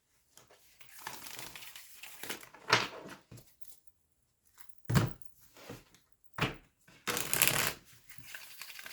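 A deck of tarot cards is shuffled close up in several quiet, irregular bursts of riffling and soft slapping, with brief silences between them and no one speaking.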